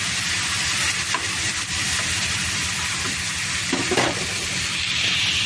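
Tomato pieces and okra sizzling and frying in a pan for okra chutney, with steady stirring and a continuous hiss throughout, no voices.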